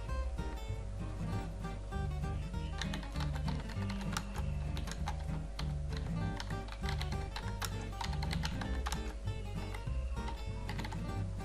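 Rapid, steady clicking of a computer keyboard as a gig title for a logo design service is typed, dense, close and continuous over a faint low hum, with no speech.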